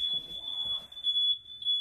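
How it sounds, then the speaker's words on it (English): In an old yacht flooded with about a foot and a half of water, a piercing high alarm tone sounds steadily throughout, loud and close over faint rustling. "Heavy alarms going off in it."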